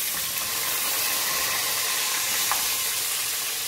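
Chicken frying in a pan for a red-sauce kebab dish, a steady broad sizzle and hiss holding evenly throughout at moderate level, no voices.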